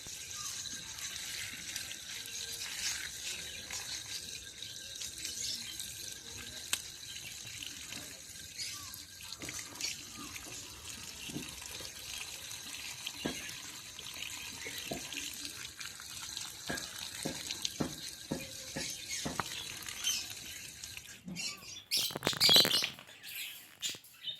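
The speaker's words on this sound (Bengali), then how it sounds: "এবার এগুলো হালকা করে একটু ধোবো" Cabbage and coriander leaves are rinsed under a running tap, a quiet steady trickle with splashing that swells into a louder gush near the end, with faint bird chirps in the background.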